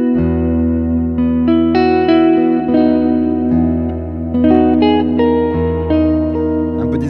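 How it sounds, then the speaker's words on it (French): An electric guitar is played through effects with reverb, sustained chords and picked notes ringing out loud and close, each decaying into a wash of reverberation. "Vous faites un joli son avec un peu de reverb et tout."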